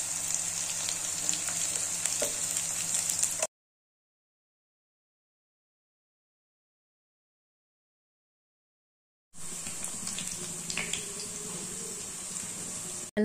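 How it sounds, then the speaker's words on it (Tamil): Chopped onions, ginger and green chilies sizzle steadily in hot oil in a pan for semolina kichadi, with light stirring. Two stretches of close frying are split by a silent gap. "நல்லா வதக்கிக்கோங்க"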